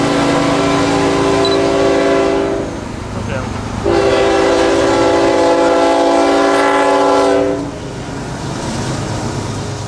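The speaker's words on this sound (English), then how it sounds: "Over there on that railroad track was Q453, miscellaneous freight for South Florida" Freight train Q453, a mixed merchandise freight bound for South Florida, passes on the railroad track with loud sustained horn blasts over a steady rumble of rolling cars, close by.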